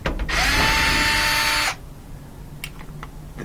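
Power tool whirring loudly for about a second and a half to back out a bolt from a Whirlpool laundry center washer, then stopping, followed by a few faint clicks.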